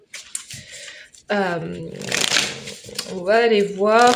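Tarot cards being shuffled during a French-language weekly reading, a rapid riffling rustle that runs under a woman's speech throughout.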